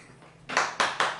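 A few sharp hand claps ring out close by after a quiet moment, with one person clapping while holding a camera in one hand, so the claps come in an uneven rhythm of about four bursts.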